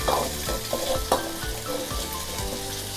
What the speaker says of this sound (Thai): เลยจะเป็นไข่สองฟองค่ะ เราก็คั่วเลยนะ